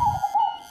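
A single soft, hollow coo from a perkutut zebra dove, a short wavering tone lasting under a second, clear and alone.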